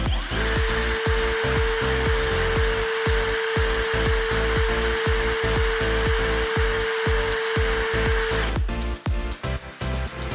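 A Browynn 20V cordless impact drill runs steadily at its second speed setting with a loud, close, high-pitched whine and a fast, even rhythmic chatter for about eight seconds, then slows and stops. No one speaks.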